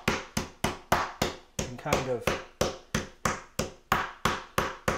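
Bottom round beef pounded with a meat hammer, a steady series of about fifteen sharp, close thumps in an even rhythm, with a voice speaking briefly partway through.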